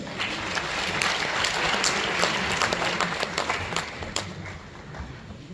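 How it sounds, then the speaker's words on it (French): Audience applause at a formal lecture or conference session in a hall, many hands clapping in a sustained burst that swells and then tapers off near the end. "Sous vos applaudissements, s'il vous plaît."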